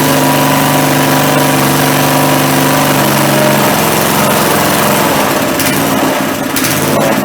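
A Craftsman tiller's small gasoline engine runs steadily up close, a loud continuous drone with a buzzy high whine, holding constant with slight roughness toward the end.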